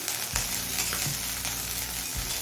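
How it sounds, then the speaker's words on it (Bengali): Small kachki fish sizzle steadily in a pan while being gently stirred, a dense continuous frying hiss broken by a few soft scraping stir strokes, close and fairly loud with no voices. "আমি হালকা হাতে নাড়াচাড়া করে মাছগুলো ভেজে নিয়েছি"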